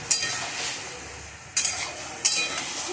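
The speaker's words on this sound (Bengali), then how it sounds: "টমেটো দিয়ে শুকনো লঙ্কা দিয়ে একটু বেশ ভালো করে ভাজা হোক" Potatoes frying in a pan with tomato and dried chili give a steady close sizzle, with stirring scrapes breaking through at intervals.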